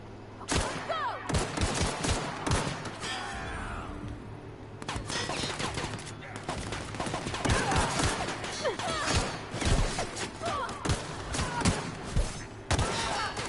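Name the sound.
pistol gunfire in video game The Outer Worlds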